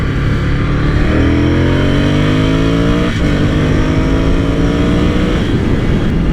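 Ducati Scrambler Cafe Racer motorcycle engine while riding, loud throaty revs climbing through a gear change, near and continuous with steady road rumble beneath.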